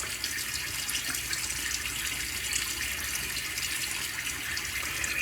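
A bathroom tap runs steadily into a sink as water is splashed up to wet a face before a shave, a continuous close hiss and gurgle with no talking.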